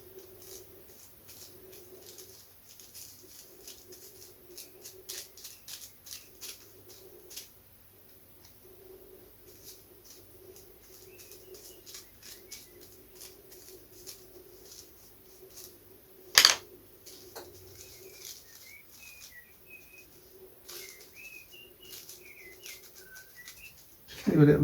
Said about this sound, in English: A little bird outside.